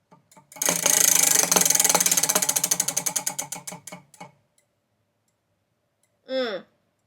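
A spinning book-picking wheel ratchets loudly and close, its rapid clicks slowing steadily as it winds down to a stop, followed by silence and then a brief voice.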